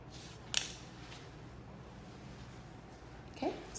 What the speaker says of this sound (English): Like I said, we're just trimming.